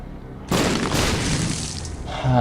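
Troll bomb blast in The Binding of Isaac, a sudden loud boom that sustains as a rumbling wash for about two seconds, ending with a short tonal blip.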